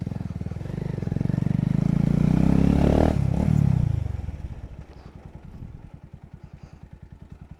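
A motorcycle rides nearby with a sputtering, misfiring exhaust. The engine swells louder for a few seconds, then drops back to a rapid idling putter.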